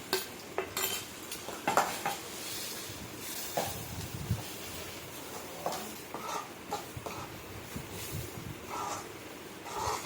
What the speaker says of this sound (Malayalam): ആദ്യം ഇത്രയും ചേർത്തിട്ട് നമുക്കതെല്ലാം ഒന്ന് മിക്സ് ചെയ്യണം.